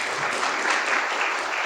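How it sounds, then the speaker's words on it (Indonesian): Audience applause at a Pilkada 2024 discussion event in Indragiri Hulu: a brief, steady burst of clapping from a crowd, dense and even throughout. "Berikan tepuk tangan yang meriah"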